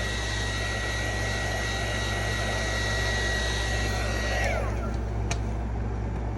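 A heat gun blows a steady, loud, broadband roar with constant low hum while heating an etched side panel; a high whine fades partway through and a brief click lands near the end.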